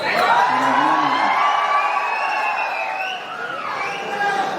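A large crowd at a film star's anniversary celebration shouts and cheers in a steady, loud roar of whoops and voices that carries through the whole stretch.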